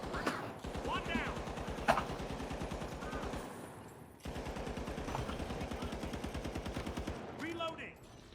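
Heavy-class gun firing in the shooter game The Finals, long sustained strings of fast, evenly spaced shots with a short break midway, loud and close, with a voice heard alongside.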